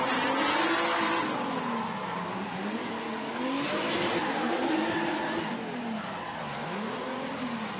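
Pro drift cars tandem-battle around a track at a drifting competition, engines revving and wavering continuously with tire squeal, loud and sustained for several seconds.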